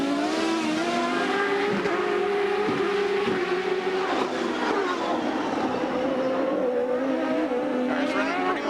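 CART open-wheel race cars at speed during the 1996 Detroit street race, a loud, sustained high-revving engine drone with shifting pitch as several cars run close together, over faint commentary.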